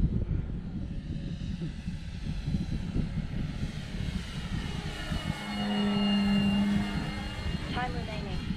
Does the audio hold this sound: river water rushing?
no